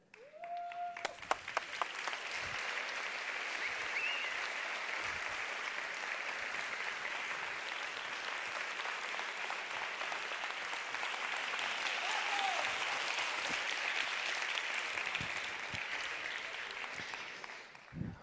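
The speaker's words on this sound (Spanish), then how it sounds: "Muchas gracias por sus reconfortantes aplausos." Steady audience applause at a live stage show fills the whole stretch, a dense sustained clatter of many hands with a few louder claps near the start and fading at the end.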